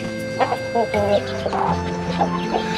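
Chickens cluck repeatedly in short bursts over a steady background hum, with a voice speaking intermittently nearby.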